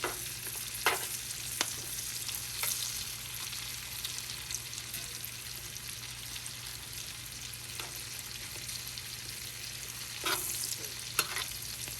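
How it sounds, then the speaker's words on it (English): Baby red potatoes sizzle steadily in oil and butter in a skillet, a constant quiet frying hiss with occasional stirring scrapes and clinks. "flip them around and get them all coated in the oil and butter mixture"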